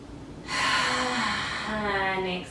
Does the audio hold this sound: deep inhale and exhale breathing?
yes